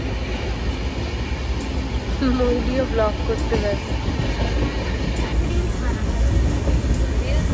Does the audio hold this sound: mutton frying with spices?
no